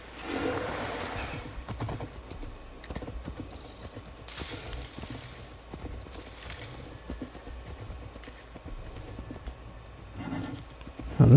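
Steady video game horse hooves clip-clop at a brisk pace over a continuous rushing ambience, with no one speaking.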